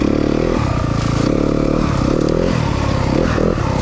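A 2023 Yamaha 250FX four-stroke dirt bike engine revs loud and close, a continuous rough buzzing drone that rises and falls in pitch, with rattling mechanical clatter throughout.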